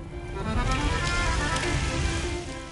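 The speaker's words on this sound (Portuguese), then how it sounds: "Chove no circo." Rain falls on a circus grounds, a broad, steady wash of patter that swells slightly in the middle and fades toward the end, with no voices.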